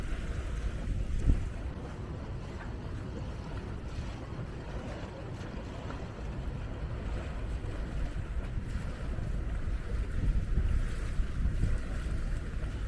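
A loaded car ferry crosses the Volga river, giving a steady low engine rumble with wind and water wash around it, moderately loud and continuous, with no talk.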